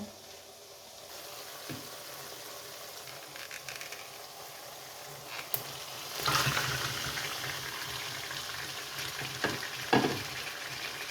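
Beef pieces frying with golden onions in a pan for a Bangla beef masala, a steady sizzle that swells louder partway through with occasional stirring scrapes and clinks, no talking.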